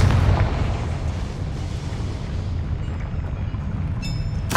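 A Confringo fire spell blast in Hogwarts Legacy erupts as a loud, sustained booming roar with a heavy low rumble, fading slightly before a sharp crackling burst near the end.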